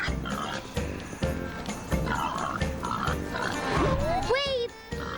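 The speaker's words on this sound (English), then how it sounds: "I got a pig here to train." A pig grunts and oinks several times, mixed with talk and background music, ending with a rising squeal-like voice.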